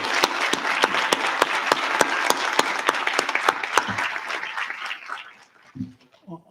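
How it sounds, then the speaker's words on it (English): An audience at a National Honor Society induction ceremony at McGuffey High School applauds new inductees with crisp, evenly spaced claps. The clapping rings out for about five seconds, then thins and fades away. "can I have a round of applause for all of our new inductees tonight?"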